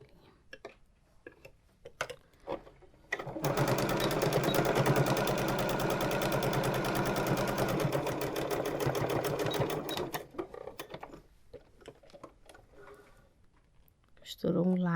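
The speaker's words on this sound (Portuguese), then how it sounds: "Costurou um lado do bolso." A sewing machine stitches one side of a patchwork fabric wallet pocket in a steady, rapid run of close, even needle clatter lasting several seconds, with quieter handling sounds before and after.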